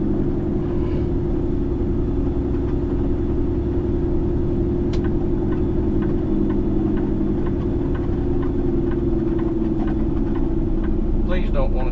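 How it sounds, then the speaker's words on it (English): A truck's Jake brake runs steadily in 8th gear, making a loud, continuous low engine drone inside the cab, with faint ticking and rattles above it. "8th gear, just let numero uno Jake brake run."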